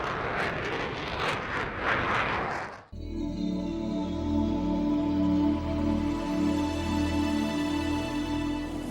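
A Concorde supersonic airliner coming in to land: a loud, broad jet roar that cuts off abruptly, followed by a steady, powerful engine drone with layered whining tones.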